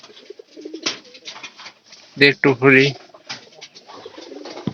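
Pigeons coo close by in a short cluster of throaty calls midway, with someone talking before and after.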